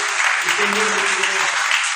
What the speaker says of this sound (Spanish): Dale un fuerte aplauso para el Rey de Reyes